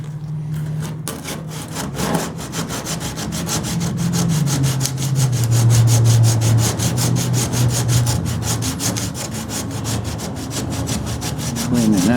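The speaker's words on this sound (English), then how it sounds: "And a little sandpaper on the edge of a stiff board." Sandpaper wrapped on the edge of a stiff board rubs back and forth over bondo filler on a 1929 Chrysler hood, giving steady, close rasping strokes in a quick even rhythm with no talking.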